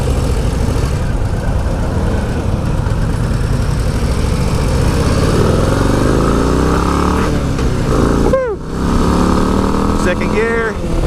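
A Harley-Davidson 2025 Low Rider ST motorcycle accelerates hard through second and third gear, a loud continuous engine roar with rising pitch sweeps and brief dips at gear changes, heard from the rider's position with wind noise.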